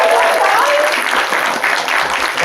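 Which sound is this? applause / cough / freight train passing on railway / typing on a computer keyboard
applause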